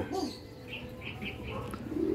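Pet pigeons coo softly at close range in a short run of low, murmuring calls, with a few faint chirps among them.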